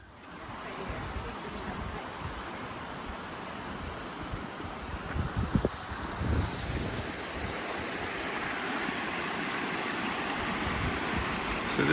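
Water rushes continuously over the spillway at St George's Lake, a broad steady roar heard outdoors, with a brief louder splash or knock midway.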